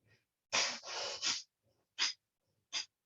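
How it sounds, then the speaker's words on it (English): Forceful bhastrika breathing through the left nostril in a meditation session: close, loud nasal breaths, a long rushing pair followed by two short, sharp puffs, separated by near silence. "So we're going to force inhale and exhale."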